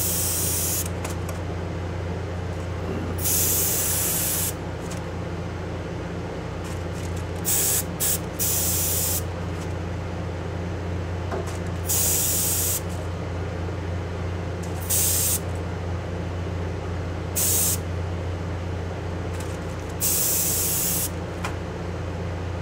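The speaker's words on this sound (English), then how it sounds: "Now that we're back, I have the airbrush primed and loaded." Airbrush spraying a test burst while being primed for model car weathering, a steady loud hiss running throughout with short bright bursts of air as the trigger is pulled.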